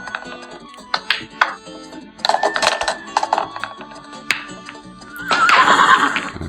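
A sound-effect horse whinny from a carnival horse race game, loud and clear, mixed with clip-clop hoofbeats and light jingling clinks in a short, busy sequence.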